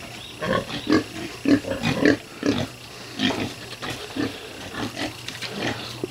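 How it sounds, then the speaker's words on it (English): A sow and piglets grunting and squealing in short, repeated bursts, close by, with a busy, shuffling farmyard background and no talking. "check on Mars's bunch to make sure she hasn't dispatched another one of her piglets"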